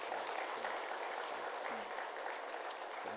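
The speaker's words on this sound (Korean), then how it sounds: "우리 큰 박수로 환영하도록 하겠습니다." A church congregation applauding to welcome a newcomer, steady clapping spread through the hall at moderate distance, with someone speaking faintly underneath.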